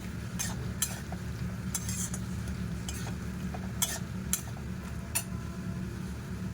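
Potatoes with ginger and spices are stirred in a pan, a low steady sizzle under repeated sharp clicks and scrapes of a utensil on metal, irregular and close.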